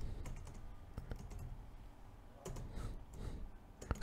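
Someone types a password on a computer keyboard in a quick, uneven run of light keystroke clicks with short pauses, close and moderately quiet.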